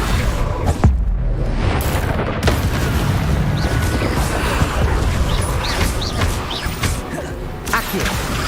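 An Incendio fire spell is cast in Hogwarts Legacy amid an ongoing magical fight, with a sharp booming impact early on followed by dense crackling and whooshing bursts and scattered hits throughout.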